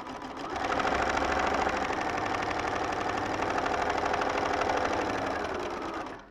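A sewing machine runs steadily for about six seconds, stitching small log cabin quilt pieces with a fast, even mechanical whir that starts after a brief pause and stops at the end.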